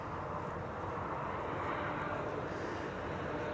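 An Embraer 190 arrives at Schiphol, a faint, steady jet rumble and hiss heard from some distance, unbroken for the few seconds.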